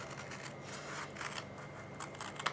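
Scissors cut paper for a stamped treat box, making faint, steady snipping and scraping against a soft background hiss.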